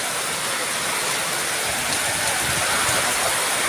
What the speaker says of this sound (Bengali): এই যে দেখেন বৃষ্টি, প্রচুর বৃষ্টি হইতেছে